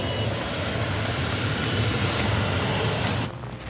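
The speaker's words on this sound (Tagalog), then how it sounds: "Malakas yung hangin tsaka yung snow." Strong wind and snow while driving a car, with a steady loud roar of rushing wind and road noise that drops off abruptly near the end.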